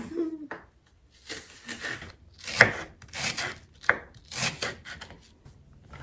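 A knife chopping shallot on a wooden board, with uneven bursts of close, rough cuts and scraping spread over several seconds, and voices talking in between.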